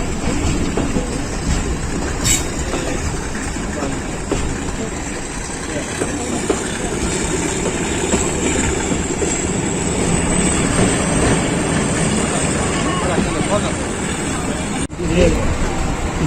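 Pakistan Railways' Hazara Express pulling away from Jhelum station, a steady loud rumble and rattle of rolling wagons heard from on board, with a voice talking over it.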